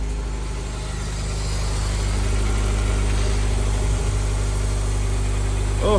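A rebuilt Mitsubishi Evo engine idles steadily and close by, a continuous low rumble holding an even level throughout with no talk over it.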